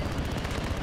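Sniper gunfire in the Call of Duty: Modern Warfare video game, a dense burst of overlapping shots and rumbling reports that fills the short clip at steady loudness with no talk.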